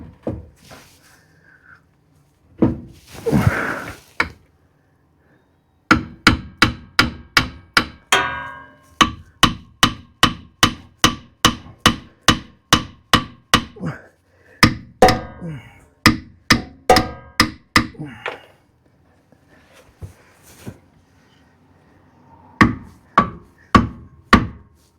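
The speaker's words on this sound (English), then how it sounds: "I think I'm gonna need a hammer though." A hammer bangs a tire onto a Onewheel hub in rapid, loud, evenly spaced strikes, delivered in long runs with brief pauses between bursts, after an opening moment of handling and rustling.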